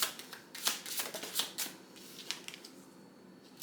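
Tarot cards shuffled by hand, several quick riffling bursts in the first half-second to two seconds, then lighter intermittent flicks, fairly soft and close with no talking.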